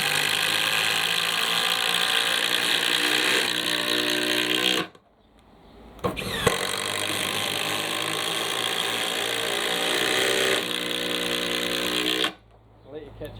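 A Makita impact driver drives screws, long loud bursts of rapid hammering clatter that stop abruptly, with short pauses between runs and people talking around it.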